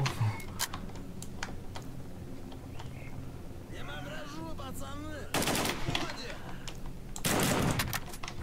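Gunfire in S.T.A.L.K.E.R.: Call of Chernobyl: scattered sharp shots crack over a game soundscape, with two louder bursts of firing later on and a voice briefly heard in between.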